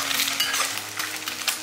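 Food sizzles in a pan while being fried golden for a soup, with a crackling hiss and light bursts of spatter, alongside faint scraping and clinks from a utensil and no voices.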